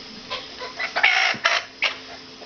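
Chickens cluck in a flock of hens and roosters, with several short, close clucks and squawks of varying pitch standing out over a steady background hiss.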